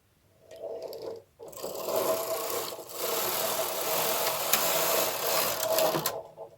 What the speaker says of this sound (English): I just push all the needles back to B position, and I knit my row